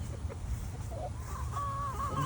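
Backyard flock of nine hens and one rooster clucking softly outdoors, with scattered short calls and a brief tonal crow-like note near the end, heard close over a steady low rumble.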